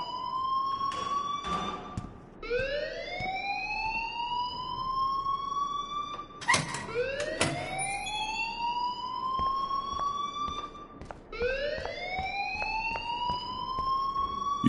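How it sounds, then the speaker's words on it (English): An alarm in the video game Life is Strange wails in long rising electronic sweeps that repeat every few seconds, loud and continuous, with a few clicks and knocks breaking in. "please turn off that alarm since that's your job"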